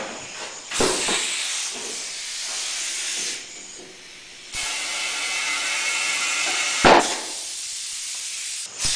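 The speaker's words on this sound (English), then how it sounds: "This side did not seat. So we got to do and put more air in it again." Compressed air hisses in bursts into a tubeless ATV tire to seat the bead. The sharp rushes come close to the mic and stop and start several times, with quieter gaps between them and no voices.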